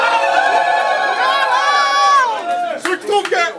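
At a battle rap event, a crowd bursts into loud, sustained cheering and whoops for a contestant, the roar holding steady before fading into scattered shouts and claps near the end.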